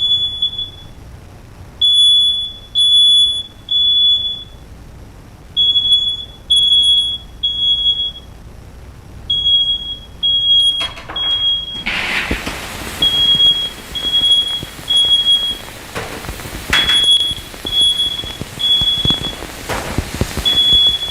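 A smoke alarm in a fire demonstration sounds a loud, repeating high-pitched beep in steady bursts, which continues as a roaring burst of fire noise builds up beneath it.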